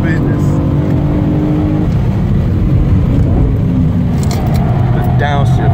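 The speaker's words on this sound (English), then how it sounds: "The downshifts, the upshifts" A BMW M3 lapping the Nurburgring, its engine droning loudly and changing pitch through upshifts and downshifts, heard from close by while a person speaks over it.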